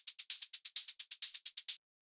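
Two synthesized hi-hats built from white noise tick in a rapid, even 16th-note pattern, crisp and hissy with accented hits, for a dark techno beat. Played alone, they stop abruptly.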